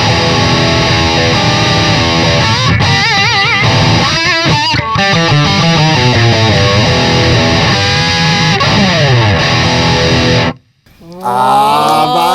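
Electric guitar played through a JACKAL MIDNIGHT distortion pedal with the clean blend switched off, a loud, heavily saturated continuous tone with chugging and sliding notes, briefly cutting out near the end before ringing again.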